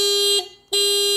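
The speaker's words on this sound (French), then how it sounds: "Il s'appuie sur le klaxon pour sonner en alarme, il fait ce bruit-là." Alarm of a Silence S01 electric scooter sounding through its horn, a loud, piercing electronic tone that cuts out briefly and then resumes at full strength, close and alone.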